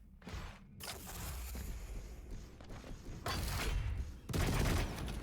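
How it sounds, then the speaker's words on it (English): Rocket launcher fire in the video game Quake Champions comes as bursts of blasts and booms during a fast match, with rapid weapon sounds overlapping in dense, loud clusters. "Beautiful rockets."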